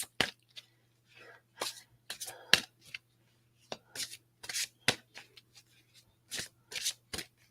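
Archangel oracle cards are shuffled in short, crisp bursts of riffling and slapping, close and quiet, with brief pauses between rounds.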